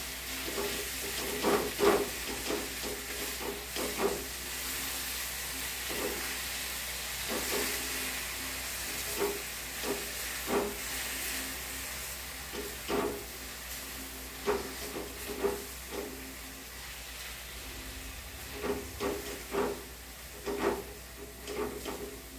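Raw mango chunda with jaggery bubbles and sizzles softly in a pan over a low gas flame, with a faint steady hiss and irregular scraping taps of a spoon stirring nearby.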